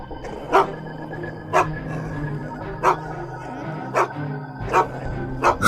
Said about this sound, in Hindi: अरे ये तो सिर्फ कुत्ता है।